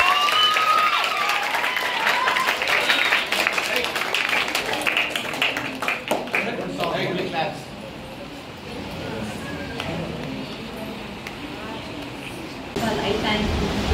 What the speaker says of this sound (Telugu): మీరు క్లాప్స్ కొడుతున్నారు